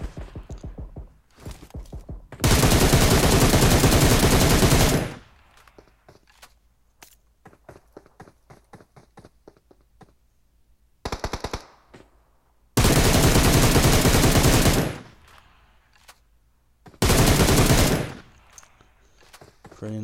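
Bursts of automatic gunfire from a squad shooter video game, sustained rattling volleys of a few seconds each, separated by quieter stretches of scattered single shots and clicks.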